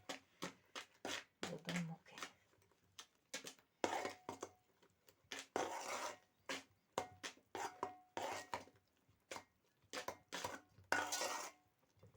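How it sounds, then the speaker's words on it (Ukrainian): A utensil stirs food in a cooking pot after flour has been added, making a series of irregular scraping and clinking strokes up close, with brief pauses between bursts. "Так, це перемішаю зараз тоді."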